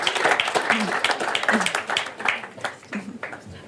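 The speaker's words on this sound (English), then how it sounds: "So a big applause to you before you leave" Audience applause at a conference session on global industry and a clean planet: a steady wash of many hands clapping, moderately loud, with a voice talking over it throughout.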